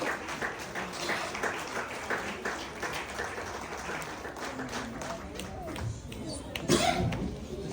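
Audience clapping at a Christmas gathering in Kalimati, a sustained patter of many hands filling the room at moderate level, with some voices mixed in.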